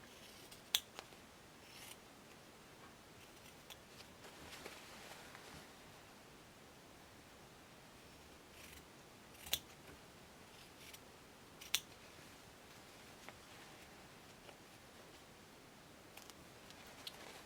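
Fabric shears cut a notch at the edge of a V-neck neckline, producing a few sharp, isolated snips spaced several seconds apart over a soft, steady background hiss, with no talking.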